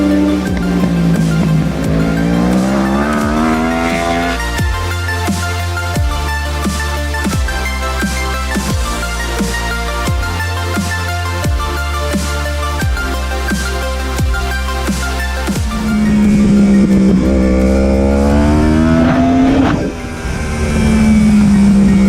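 Racing motorcycle on a circuit, rear spring modified, engine roaring loud and close with rising and falling gear-by-gear revs, sharp rhythmic shifts through the middle, then a long climbing pull at the end.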